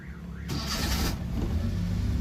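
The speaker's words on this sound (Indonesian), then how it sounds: "Mesinnya Cekur Tokcer 1 kali starter langsung hidup nih" A former angkot minivan engine catches after a brief crank and settles into a steady, fairly loud idle rumble close by.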